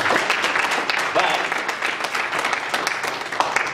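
A small church gathering bursts into applause, a dense patter of clapping hands sustained throughout with voices mixed in beneath it.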